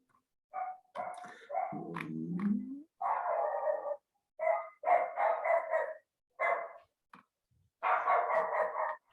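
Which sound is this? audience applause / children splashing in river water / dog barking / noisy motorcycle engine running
dog barking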